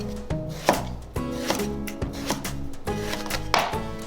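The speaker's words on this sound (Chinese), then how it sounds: "我们先将洗干净的茄子切成滚刀块" A knife chops washed eggplant into chunks on a wooden board, with about a dozen loud, close, sharp thuds in a loose rhythm and nothing else.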